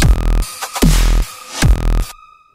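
Bass synth patch built in Serum as a remake of a dubstep track, playing loud pitched tones that drop and sweep in short bursts, cut off into near silence at the end.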